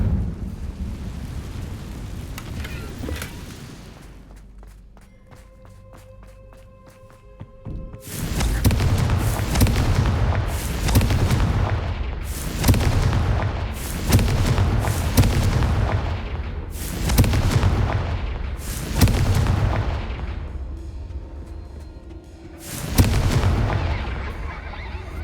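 Repeated booming spell explosions in a video game, about seven heavy blasts in fairly regular succession, each with a sharp onset and a rumbling decay, loud and close, preceded by quieter game ambience.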